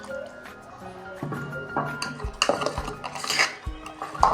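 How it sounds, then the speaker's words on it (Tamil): Biscuit batter mixed with milk in a bowl, a utensil clinking and scraping against the sides in irregular strokes, with some wet sloshing, close and moderately loud, no talk. "கொஞ்சம் கட்டி பிடிக்காமல் நல்லா வந்து இங்கே நம்ம மிக்ஸ் பண்ணிக்கணும்."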